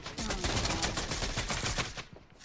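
Rapid gunfire from a Fortnite match, dense and loud bursts of shots running nearly continuously before trailing off at the end.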